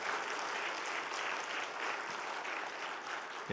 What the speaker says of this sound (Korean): 우리 수고한 여전도에 위해서 한번 전체 박수 한번 하겠습니다.